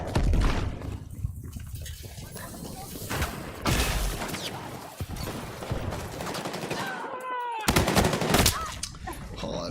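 Battlefield combat with repeated close gunshots and bursts of automatic fire cracking over a noisy battlefield, with a person talking in between.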